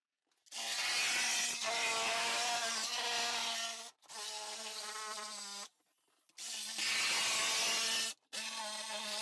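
A power saw cuts a fiberglass bathtub into pieces during a tub removal, a loud high-pitched buzzing whine in four long bursts separated by short pauses, with no talking.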